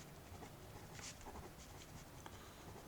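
Pen or marker writing out accounting notes during a lesson, a faint continuous scratching with short strokes, quiet and steady with no talk.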